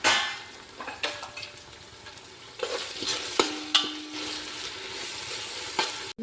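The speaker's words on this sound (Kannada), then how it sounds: "ಹೂವು, ಚಕ್ಕೆ, ಲವಂಗ, ಏಲಕ್ಕಿ, ಬಿರಿಯಾನಿ ಎಲೆ ಎಲ್ಲವನ್ನು ಹಾಕಿ ಇದನ್ನು ಕೂಡ 1-2 ನಿಮಿಷ ಫ್ರೈ ಮಾಡ್ಕೊಳ್ಳಿ." Whole biryani spices (star anise, cinnamon, cloves, cardamom and bay leaf) frying in a pot for chicken biryani, with a soft sizzle under repeated sharp clinks and scrapes of a stirring spoon.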